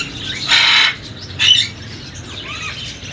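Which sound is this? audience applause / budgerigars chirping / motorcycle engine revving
budgerigars chirping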